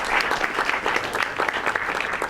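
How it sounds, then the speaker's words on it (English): An audience in a School of Visual Arts event space applauds at an evening talk on fracking, close and loud hand claps in a lively, uneven round. "So a round of applause."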